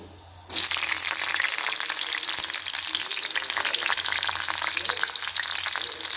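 Chilies and cumin seeds hit hot oil and burst into a loud, crackling sizzle that starts suddenly and holds steady and close for several seconds.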